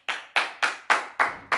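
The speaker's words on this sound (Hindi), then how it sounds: "ताली बजाओ यार" A few people clap their hands in six sharp, evenly spaced claps, each a crisp loud burst with a quick decay, close by and with no talking over them.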